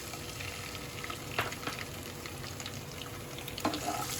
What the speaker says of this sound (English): In a heated pan, I'll put 2 tablespoons of oil. Now I will add chopped beans.